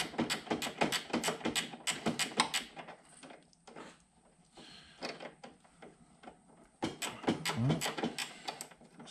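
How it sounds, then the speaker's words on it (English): Small 8mm ratchet wrench loosening a bolt on a 2011 Yamaha Apex snowmobile, with rapid close clicking bursts, a quieter pause in the middle, then more clicking. "you can slip a little 8mm wrench in there, which will allow you to ratchet that right off"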